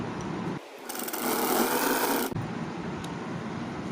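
Sewing machine running a short burst of about a second and a half, stitching a double seam along piping on fabric, a dense whirring buzz close up, set between quieter handling rustle.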